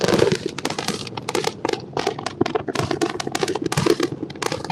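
Roaring crackle of a SpaceX Starship launch on its fourth test flight, a loud, dense stream of sharp pops and rumbles, heard from a distance as one unbroken fireworks-like barrage.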